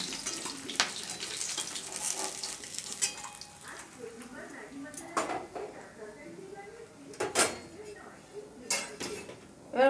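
Fried rohu fish lifted out of a pan of hot oil, with sharp metal utensil scrapes and clinks against the cookware over a faint sizzle, close by, with someone talking between the knocks.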